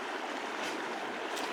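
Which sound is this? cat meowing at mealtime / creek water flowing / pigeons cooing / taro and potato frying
creek water flowing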